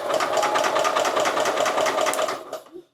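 The Steyr Puch engine cranks over on its dyno starter, sounding as a fast, steady mechanical whirring chatter that is loud and close, then winds down and stops near the end.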